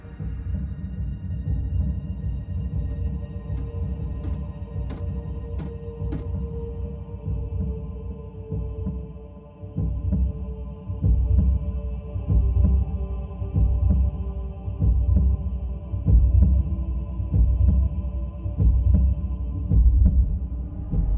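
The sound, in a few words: Cybertronian heartbeat converted to audio, Transformers Prime animation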